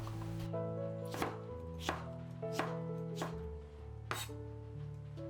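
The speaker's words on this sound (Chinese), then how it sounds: "半个柠檬切成片" A knife slices half a lemon on a cutting board, about five sharp chops spaced roughly a second apart, close and clear over a steady low hum.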